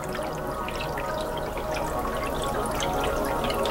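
Continuous bubbling and gurgling of HHO gas through distilled water in a bubbler, a steady fizzing churn with faint drips, close up and uninterrupted.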